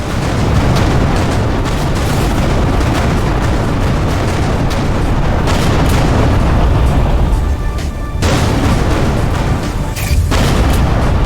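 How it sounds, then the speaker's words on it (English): A loud, sustained roar of an explosion in the space-combat game Everspace 2, with rumbling booms that swell again near the end and fill the whole stretch without pause. "Vacate this area at once. Explosion imminent."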